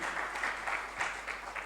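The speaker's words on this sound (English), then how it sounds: "A round of applause." An audience at a financial markets conference applauds, a dense continuous wash of clapping heard from a distance with no voices.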